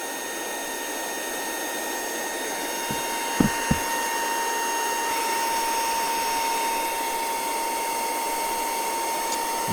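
A brushless cordless vacuum cleaner runs steadily at full power, giving a continuous airy whine with a high tonal hum. A couple of brief knocks sound partway through, and no one speaks.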